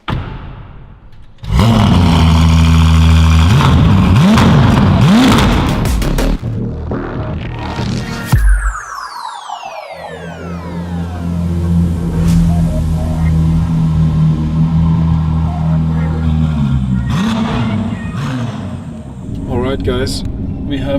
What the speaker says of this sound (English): I start the car up and you can listen to it and see how it sounds.